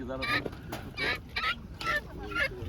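Guinea fowl call in harsh, rhythmic bursts, several loud squawks in a row, fairly close with a little background noise.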